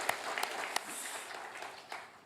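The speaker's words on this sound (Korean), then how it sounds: "다시 한번 우리 하나님 앞에 큰 박수로 영광을 함께 돌리겠습니다." A church congregation claps in praise during a worship service, a moderately distant round of applause with a few sharper claps standing out near the start.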